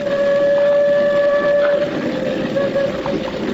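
A train approaching through a canyon in a radio drama, a loud sustained rumble of rolling cars under a long steady whistle tone that fades a little toward the end, with no talking.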